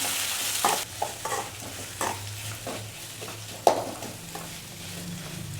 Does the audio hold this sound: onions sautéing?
yes